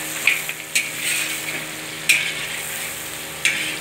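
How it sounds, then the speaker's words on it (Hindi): Karahi gosht sizzling in a wok while being stirred, with a steady frying hiss and several sharp metallic scrapes and clinks of the utensil, close and fairly loud, no voices. "कढ़ाई गोश्त बना रहे हैं"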